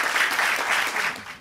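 Brief burst of audience applause at a master class, a moderately loud wash of clapping from a crowd that fades out quickly.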